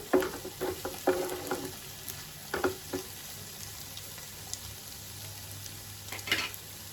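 Egg curry with curry leaves frying in a pan while being stirred: a steady sizzle runs throughout, broken by intermittent scraping and clinking strokes of the spoon, close and moderately loud with no talking.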